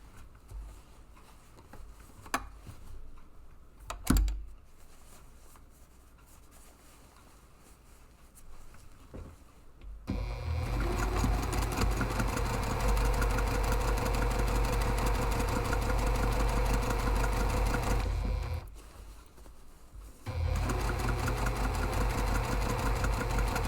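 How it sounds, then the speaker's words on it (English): Sewing machine stitching the wall of a large padded camera bag from the top down to the seam, a steady close mechanical whir running for long stretches with a short pause, after quieter handling noises at the start. "you're going to stitch from the top to the seam"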